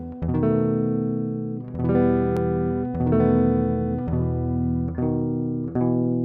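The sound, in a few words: major dominant chord containing the leading tone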